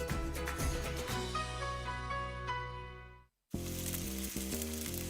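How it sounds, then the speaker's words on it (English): Steak sears in its juices on a Weber Searwood pellet grill with a dense, steady sizzle, close and loud, that drops to silence briefly before resuming. "That's the sound of steak searing in its juices on your new pellet grill."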